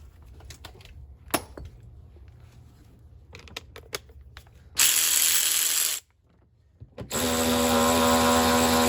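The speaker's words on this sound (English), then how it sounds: "Now we're gonna install these front bolts." A ratchet turns Torx 55 bolts on the front of a Ford seat: scattered clicks first, then two sustained bursts of rapid ratcheting, loud and close, with a short pause between them.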